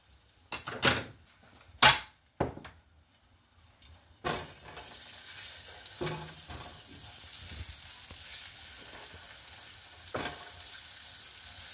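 Garlic frying in a hot pan while cooking pancit canton: a few sharp knocks and clatters open the clip, then a steady sizzle settles in and holds low and continuous under occasional small clicks.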